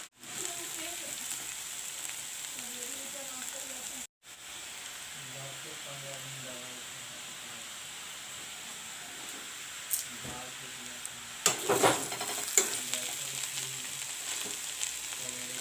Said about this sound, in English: This way I will fry the potatoes